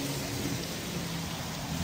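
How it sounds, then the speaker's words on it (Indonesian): Heavy rain pouring down in a steady, unbroken hiss, dense and constant from start to finish, with no voices over it. "Hujan masih setia mengguyur meski tidak sederas beberapa waktu lalu."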